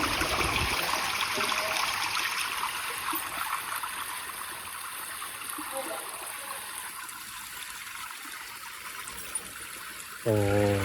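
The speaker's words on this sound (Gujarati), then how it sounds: "તાજું પાણી આવે મિત્રો મસ્ત મજાનું." Fresh water flowing steadily outdoors in a village setting, a continuous bright hissing rush close to the microphone, shifting briefly near the end.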